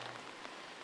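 Heavy rain pours steadily onto surfaces in a village, a dense, continuous hiss of drops with no pauses and no voices.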